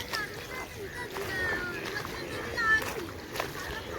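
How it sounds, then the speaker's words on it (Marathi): Rain-fed water pours over a small field weir in a Konkan village during May, a steady rushing wash with a person talking over it throughout. "बघा बघू शकतो इकडे किती पाणी वाहतोय खांडीवरून"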